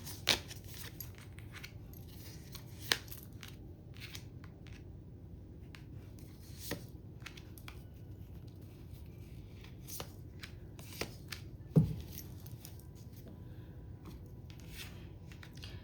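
Tarot cards being shuffled and drawn during a Gemini tarot reading, heard as quiet, sparse papery flicks and soft taps over a low steady background hum, with occasional sharper snaps.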